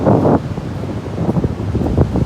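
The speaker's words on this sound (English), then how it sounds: "Woo, that wind." Strong wind buffeting the microphone on the Florida coast near a hotel, with large waves behind; a loud, steady roar with gusty rises and no talk.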